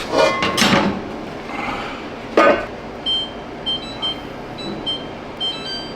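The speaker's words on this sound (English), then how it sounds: "Timer's going off" A kitchen timer beeps in a steady series of short, clear electronic tones while sourdough bread bakes, after some louder clattering kitchen handling sounds at the start.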